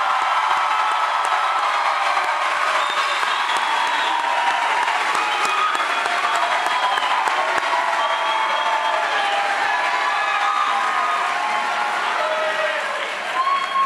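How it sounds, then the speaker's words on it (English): A crowd at a 2018 high school graduation ceremony applauding steadily for the graduating class, dense continuous clapping that stays loud throughout. "One more round of applause for the graduating class of 2018."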